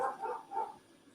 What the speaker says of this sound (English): Oh, the dog's going nuts.